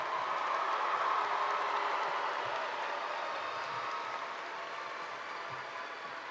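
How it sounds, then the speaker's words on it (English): A large crowd at a high school graduation ceremony applauds the class of 2018, with a steady, dense wash of clapping that gradually eases slightly and no speech. "Let's give another round of applause for the class of 2018."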